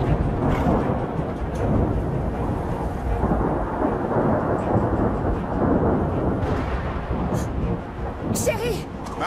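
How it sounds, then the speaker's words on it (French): Deep rolling thunder of a supercell thunderstorm rumbles continuously and loudly, with rain noise and a faint voice briefly audible near the end. "C'est un orage supercellulaire."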